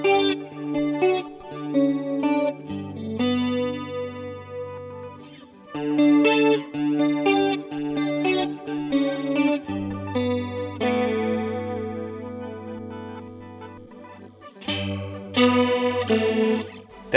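Electric guitar played through a Boss Dimension C DC-2W Waza Craft chorus pedal, chiming chords and arpeggiated lines with a lush, shimmering 80s chorus over sustained low notes, steady and fairly loud with no talking.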